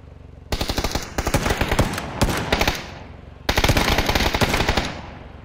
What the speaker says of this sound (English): You keep almost walking into my shots.